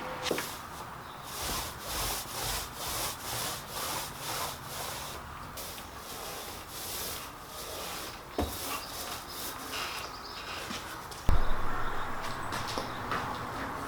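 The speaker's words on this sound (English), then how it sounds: "now I'm going to wipe it all off with some mineral spirits" A cloth soaked in mineral spirits wiped over sanded epoxy on a fiberglassed teardrop camper panel, giving steady rhythmic rubbing strokes, close and moderately loud, with a sharper knock near the end.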